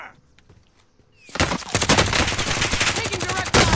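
Gunfire in Call of Duty: Modern Warfare bursts in after a quiet stretch, loud rapid automatic shots rattling on continuously with dense echoing cracks.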